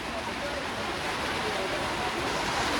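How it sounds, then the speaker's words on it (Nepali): Rain falls outdoors in a steady, even wash of hiss with no breaks or variation. "पानी परेको सुन्न सक्नुहुन्छ पानी यस्तो मजाले परेछ नि"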